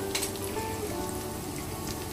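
Chili powder hitting hot oil in a pan before tomatoes go in, a steady close crackling sizzle that holds evenly throughout with no talking.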